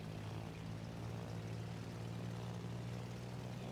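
Propeller engines of dive bombers in World of Warships drone as a faint, steady hum, a low even tone with no voices over it.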